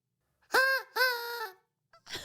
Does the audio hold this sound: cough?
no